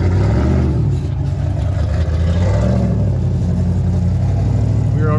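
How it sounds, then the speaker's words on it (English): A race car engine revs and growls at mid distance on a rugged rock crawling trail, a continuous rough roar with clattering undertones and slight swells in pitch. "There's another race car. Race cars sound so much like race cars."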